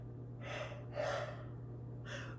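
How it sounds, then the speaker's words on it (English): A woman's long, breathy yawn in a quiet indoor room during a mindful morning routine, with drawn-out inhales and exhales over a steady low hum. "I swear to god the yawn wasn't planned"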